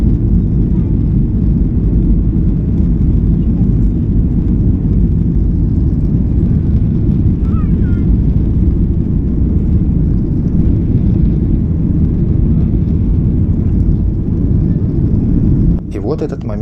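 An airliner takes off with its engines at full throttle, a loud, steady, deep roar heard continuously from inside the cabin. It eases slightly just at the end.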